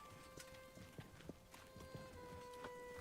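Horse hooves clip-clop in the medieval city-building game Manor Lords, a quiet, irregular patter of light knocks over a steady tonal game hum, with no voices.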